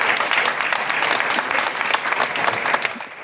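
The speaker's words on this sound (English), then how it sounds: "Let's give him a round of applause." Sustained audience applause at a transit conference, many hands clapping steadily and fairly loud for over three seconds, with no break or speech over it.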